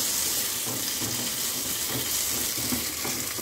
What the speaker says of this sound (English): Give it around 30 seconds to get fried.